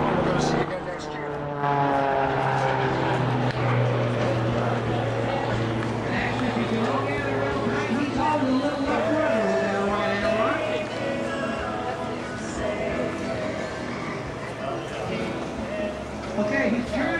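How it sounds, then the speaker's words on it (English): Aerobatic airplane performing at the Lake Tahoe air show, its steady propeller drone rising and falling as it turns and rolls overhead, heard under continuous announcer-style talk. "Okay, he's turning, but if the aircraft is inverted, he's doing an outside rolling turn."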